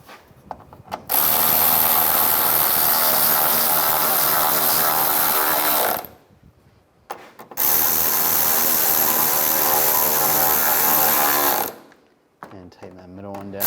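A power tool whirs loudly and steadily in two long bursts with a brief pause between, driving bolts tight on a 2011–2019 Ford Explorer bumper cover, close up with small clicks around the runs.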